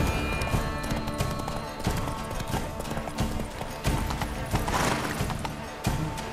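Hooves of Roach, a horse in The Witcher 3, clop in a steady galloping rhythm, close and fairly loud, with a brief whinny and no talking over it.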